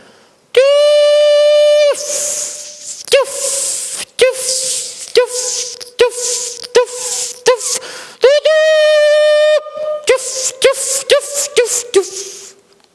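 A man vocally imitates a steam train, starting with a long hiss and moving into a rhythmic series of short chuffing puffs, then a second longer hiss followed by more quick puffs.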